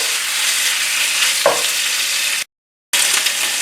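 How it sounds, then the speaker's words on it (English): Marinated beef sizzles steadily in vegetable cooking oil over medium-high heat, a close, even frying hiss broken by one brief stir and a short gap of silence. "Give the beef a quick stir."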